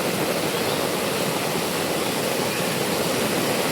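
Floodwater near an apartment building during heavy rain rushes in a steady, dense roar that fills the whole stretch without pause or change, close and loud, with no voices.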